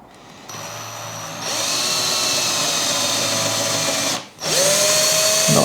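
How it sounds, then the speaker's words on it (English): A power drill bores 6 mm holes through a vert melty combat robot part, a loud close whine that ramps up, holds steady, briefly stops and then starts again. "So we drill through the pair of those"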